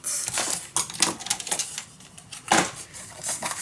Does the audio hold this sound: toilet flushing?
no